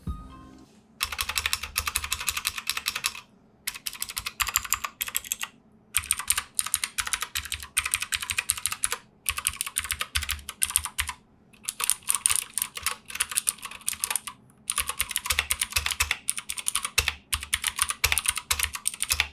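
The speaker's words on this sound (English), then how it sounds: "here's a little sound demo of how the blue switches sound on the K8" Clicky Keychron K8 mechanical keyboard with blue switches typing, a fast, loud clatter of keystrokes in bursts separated by brief pauses.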